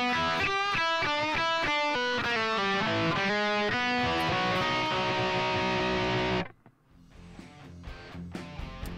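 A blues rock guitar plays a turnaround, sliding into chords without root notes, bright and upfront for about six seconds before stopping abruptly, followed by quiet string noise and faint plucks.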